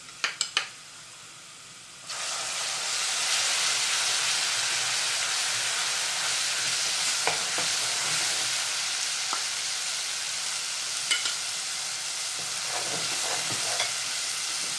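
Garlic and spices frying in a pan while being stirred, opening with a few sharp clinks before a loud, steady sizzle takes over and carries on with scattered scrapes and taps of the spoon.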